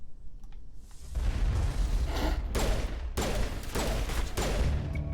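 Shotgun gunfire in the game Mass Effect Legendary Edition: after a quieter opening, several loud, close blasts land at uneven intervals over a dense bed of combat noise.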